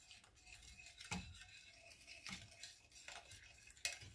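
A spoon stirs an oatmeal bake mixture with milk in a bowl, giving soft sloshing swirls punctuated by a few faint clinks and scrapes, quiet and close with no talking.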